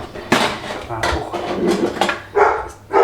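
A dog barking indoors amid clattering dishes and cutlery, a few sharp barks mixed with clinks and knocks, close and fairly loud.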